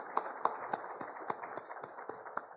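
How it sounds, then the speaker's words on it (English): Sparse, distinct hand claps at a panel session of a skills summit, individual claps spaced irregularly and fairly faint, with a steady background hum. "Huge round of applause."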